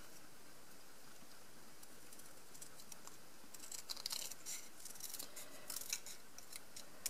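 Quiet, close scissors snipping through cardstock, with a steady run of crisp little cuts that grow busier toward the end, no voices.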